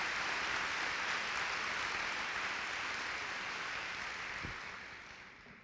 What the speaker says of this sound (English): I'd like to give them a round of applause anyway